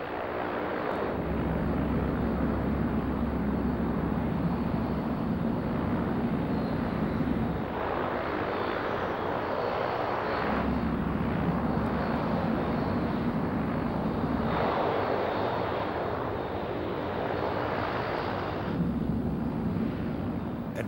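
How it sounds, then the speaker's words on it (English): Lockheed P-3 Orion turboprop taking off, a loud continuous engine roar with a steady low drone that swells and eases in broad waves over about twenty seconds, no voices. "At 110 knots, Lieutenant Alan Poremba pulls back on the stick and the Orion is airborne."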